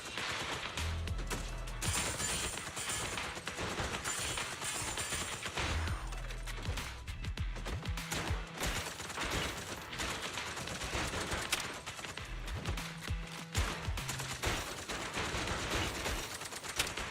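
Repeated bursts of gunfire in the video game Zenless Zone Zero as a player shoots at crates, dense volleys and rapid fusillades filling the whole stretch with little pause and no talk.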